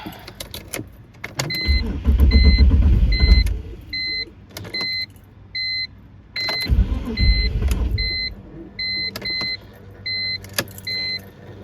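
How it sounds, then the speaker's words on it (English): A race car's engine is cranked twice after additive was poured in. Two rough, loud cranking bursts fail to catch, and a repeating electronic chime beeps steadily between and after them. "hopefully we can actually get the engine to start"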